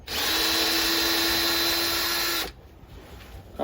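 A power drill runs steadily at close range, backing screws out of an upcycled can during an outdoor cooker build, with one continuous whine lasting about two and a half seconds before it stops abruptly.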